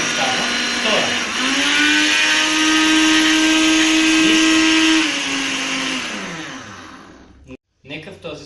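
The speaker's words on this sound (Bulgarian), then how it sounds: "Нека в този случай просто спрем блендера, отворим" A Philips HR2100 kitchen blender runs on its second speed, a loud steady motor whine that holds for several seconds, then winds down and stops, leaving near silence and a few small knocks.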